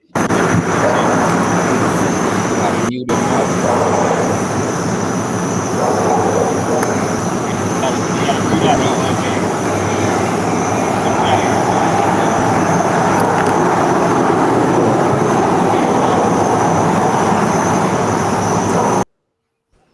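A jet aircraft engine in a video game roars loudly and steadily, with a brief dropout early on, under someone talking, then cuts off abruptly before the end.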